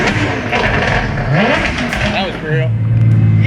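Built Toyota 2JZ engine with a Garrett G35-1050 turbo revs hard and close, its pitch sweeping up and down through a loud, continuous roar, with people talking over it.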